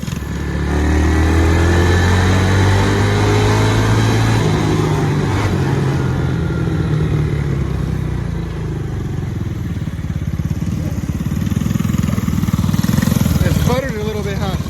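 Homemade minibike engine running loud and close, with a steady buzzing drone that wavers in pitch and sputters unevenly, and a brief rising rev near the end.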